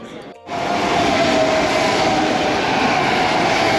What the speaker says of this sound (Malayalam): ഇവിടെ നമ്മുടെ ട്രെയിൻ വന്ന് നിർത്തും.